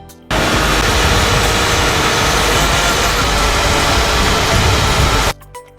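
A heavy equipment engine roars loud and steady at close range, starting abruptly and cutting off just as suddenly after about five seconds.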